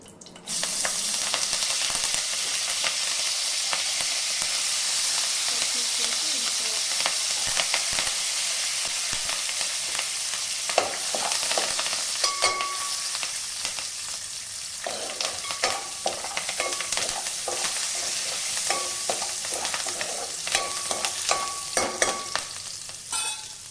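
Curry leaves crackle and sizzle in hot oil for fried rice, a dense steady hiss with sharp pops and spoon scrapes as the pan is stirred, close and loud without a break.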